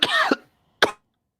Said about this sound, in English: I don't know if you caught some of that cough.